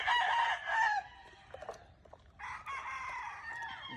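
A gamecock crows loudly and clucks up close while being bathed, with short bursts of crowing separated by a quieter stretch of faint scratchy movement.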